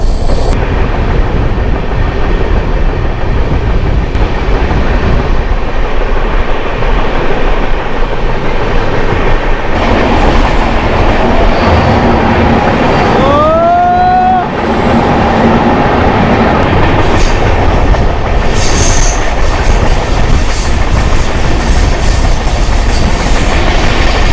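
Samaleswari Express, a passenger train from Howrah to Jagdalpur, running through hilly Eastern Ghats country, with a loud steady rumble and rhythmic clatter of wagons throughout and brief squealing wheel tones midway.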